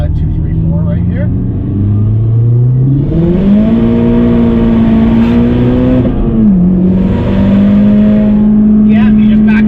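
A tuned Mazdaspeed 3 accelerates hard through second, third and fourth gears, its engine note climbing steadily with a brief dip at each shift, loud and close from inside the car.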